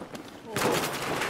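Gunfire in the Battlefield 4 multiplayer game: a loud burst of shots breaks in about halfway through and carries on as a dense, sustained rattle to the end, with a quieter earlier stretch before it.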